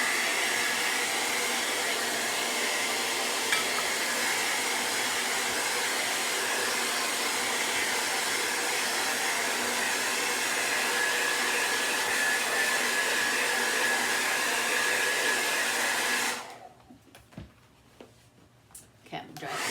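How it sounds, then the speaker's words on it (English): A hair dryer blows on a painted burlap chinoiserie stool, a loud, steady roar that runs for about sixteen seconds, then cuts off abruptly, leaving near quiet with faint handling noises. "quick blow dry one more time"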